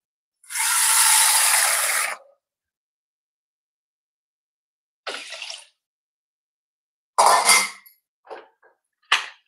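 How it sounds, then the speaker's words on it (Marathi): A pressure cooker lid is fitted and locked onto the pot, already holding whole masoor lentils and water, giving a long close scraping rasp followed by a few short metallic clicks and clacks, with no talk. "तर हे बघा, कुकर मी लावून घेते."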